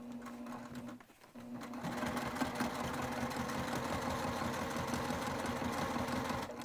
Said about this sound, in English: back stitching again.